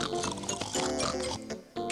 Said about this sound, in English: I think pigs like snuffling around, Pig 1.